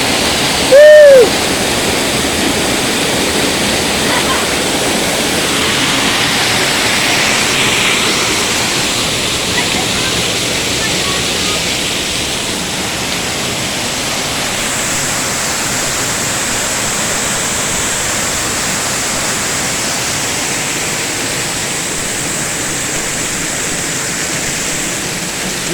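A waterfall roars in a steady, loud wash of falling water, up close and continuous, with a brief shout near the start.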